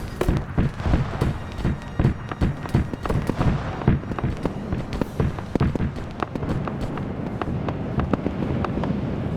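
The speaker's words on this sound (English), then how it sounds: "There's an airstrike coming in." Airstrike explosions in Arma 3 during a Starship Troopers themed Zeus operation, a rapid series of sharp booms and cracks, dense at first and then thinning, with wind-like rumble underneath.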